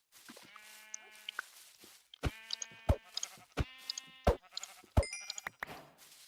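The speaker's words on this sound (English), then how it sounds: "I did see a sheep." Minecraft sheep bleating several times in close succession, wavering nasal bleats broken by sharp game clicks and thumps, fairly near and clear with no talk.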